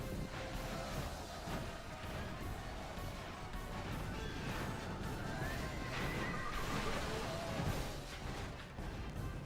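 Horse archers' horses neigh and whinny amid hooves and crashing clashes of a battle in the Medieval II video game, a busy, continuous din with no speech.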